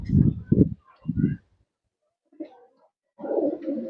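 Pigeons, male and female, coo in three soft close bursts, then after a quiet gap a fainter call and a longer, low burbling coo near the end.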